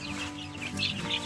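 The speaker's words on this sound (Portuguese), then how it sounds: "Elas são galinhas." Chickens in a backyard coop on a small rural farm, clucking in a few soft, overlapping calls over a steady low hum, fairly faint and with no voices.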